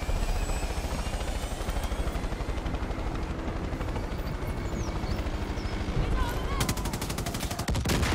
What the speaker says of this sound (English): There's two helicopters